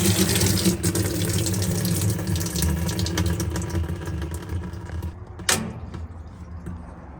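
Water gushes steadily into a washing machine drum, a constant rushing flow with a sharp knock or click of the door lock near the end.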